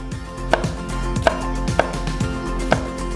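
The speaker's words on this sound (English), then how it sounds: "you need to chop some tomatoes" A knife chops tomatoes on a cutting board with four sharp, evenly spaced strikes over a steady background hum, close and fairly loud, with no talking.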